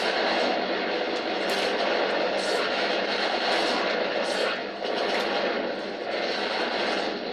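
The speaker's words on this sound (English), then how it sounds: "Oh, I'm just dropping bombs." A loud, continuous roar of aircraft engines and explosive rumble from planes dropping bombs in the arcade shooter 1942 Joint Strike, heard as a dense wash with brief swells.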